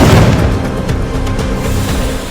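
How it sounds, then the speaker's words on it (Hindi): Diwali firecrackers burst in an outdoor area in Kanker, a loud rumbling boom with a rolling echo and a few crackling pops inside it, fading slowly over a couple of seconds. "इस बार दिवाली पर पटाखों की गूंज सुनाई दी"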